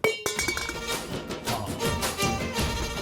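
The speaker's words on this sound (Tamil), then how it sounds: "அது மணி சத்தம் இல்ல, சொம்பு சத்தம்." A metal sombu pot clangs in a domestic scene, sharp metallic strikes ringing out several times over about three seconds with a bright, resonant, fairly loud character.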